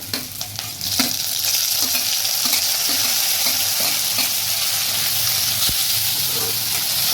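Chopped tomatoes hit fried masala in a hot pan for a bhajiya kadhi curry, raising a loud, steady sizzle with soft scraping stirs throughout, up close.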